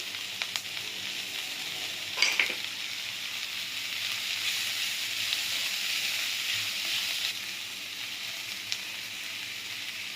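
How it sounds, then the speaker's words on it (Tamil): Vegetables with grated paneer and chili powder for Mumbai-style masala sandwich stuffing sauté in a pan, giving a steady close sizzle with a brief stirring clatter near the start and no talking. "நம்மளோட வெஜிடபிள்ஸ் ஓரளவு நல்லா வதங்கிருச்சு."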